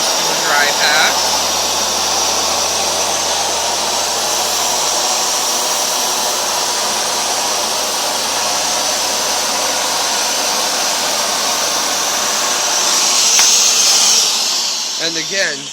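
A Hoover Dual Power Max carpet washer runs continuously up close, a loud steady motor whine with a rushing airy hiss that holds almost unchanged throughout.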